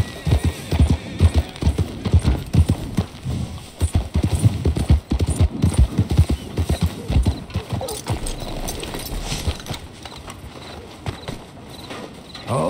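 A horse walks toward a stable in Red Dead Redemption 2, hooves clip-clopping in a steady, close rhythm with an occasional snort, while someone talks over the steps.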